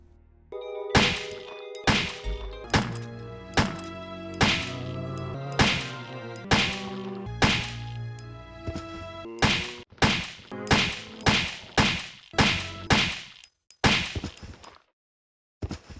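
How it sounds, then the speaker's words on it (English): Zombie skulls burst from headshots in Resident Evil: Director's Cut, a string of about fifteen sharp, heavy gunshot-and-splatter impacts, spaced roughly a second apart at first, then coming faster near the end, each one loud and alone. "The occasional headshot, which explodes a zombie's skull in a beautiful fucking bloodbath"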